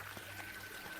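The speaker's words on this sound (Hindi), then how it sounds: "पीछे से नदी में पानी उछलने की आवाजें आ रही थी" River water splashes and pours as a sound effect, a soft, continuous watery gush that stays faint and distant for a brief moment.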